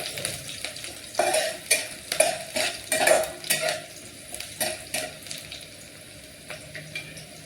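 Onion sautés in a pan while potato bhaji is being made: a soft, close sizzle with bursts of utensil scraping and clatter in the first half that settle into a quieter fry.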